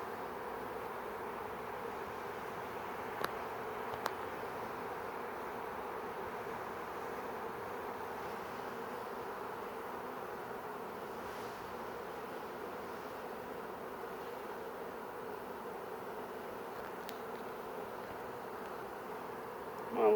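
Captured honey bee swarm buzzing as a steady, low, continuous hum that holds evenly throughout, with a couple of faint clicks near the start.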